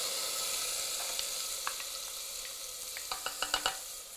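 Minced garlic sizzles steadily in unsalted butter with a constant fine crackle, then a quick series of sharp pops and spatters toward the end, close and fairly quiet, with no voices.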